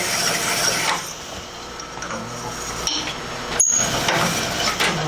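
A Sunnen HW97 honing machine works the bore of a compression tube with a loud, steady mechanical grinding and rasping drone, topped by a sharp click near the end.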